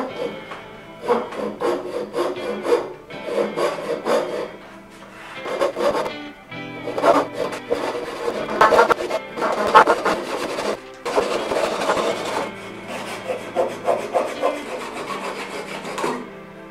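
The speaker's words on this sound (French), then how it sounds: "À l'aide d'une petite scie japonaise, je peux couper sur les traits." A small Japanese saw cuts dovetail lines into wood for a baritone guitar neck-to-body joint, giving steady, close rasping strokes in a regular back-and-forth rhythm throughout, with no talking.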